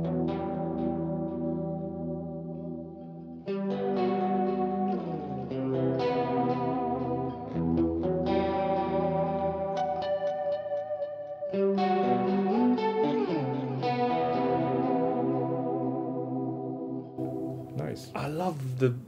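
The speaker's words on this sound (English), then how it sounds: "So let's add a small delay, like echo." Electric guitar run through a Blue Cat Audio plugin with a small delay echo, sustained chords and picked notes ringing with repeats and chorus-like shimmer, loud and continuous with a short burst of strumming near the end.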